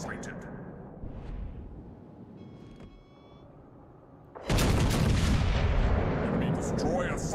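A warship's forward main guns fire in World of Warships Legends: a heavy, booming salvo erupts suddenly and rolls on loudly, following a quieter stretch of low game rumble.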